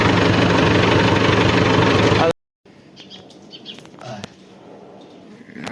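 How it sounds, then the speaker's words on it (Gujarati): A nearby tractor engine, a 475 model, idles loudly and steadily for about two seconds, then cuts out, leaving quiet outdoor ambience with scattered bird chirps. "એવું ટ્રેક્ટર છે આપણી પાસે ચારસો પંચોતેર"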